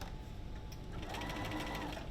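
A sewing machine back-stitches at the bottom of an invisible zipper with a zipper foot, a close, steady mechanical whir that picks up a faster rhythmic stitching chatter partway through.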